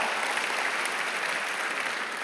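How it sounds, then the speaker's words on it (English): Steady applause from a church congregation fills a sermon hall, a dense continuous wash of clapping at even loudness without gaps or voices. "Give yourselves a round of applause."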